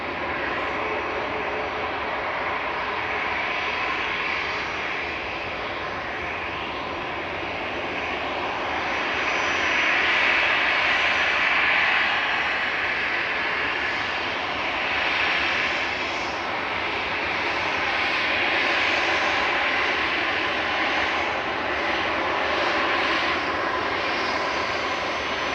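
A TAP airliner takes off at Manchester Airport, its engines a loud, sustained roar that swells and wavers as the aircraft climbs away.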